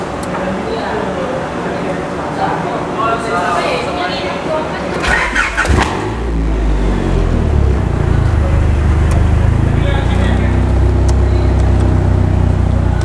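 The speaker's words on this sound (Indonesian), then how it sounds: "Sekarang kita coba menstart mobil ini." A 1996 fourth-generation Honda Prelude with its H23 engine cranks briefly, fires up and settles into a steady, loud idle, with some background noise before the start.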